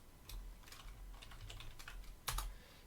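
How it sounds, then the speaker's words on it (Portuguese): Quiet keystrokes on a computer keyboard entering a search term in a Linux file viewer, a short irregular run of taps ending in one firmer key press. "Basta apertar a barra para frente e digitar o termo que você quer."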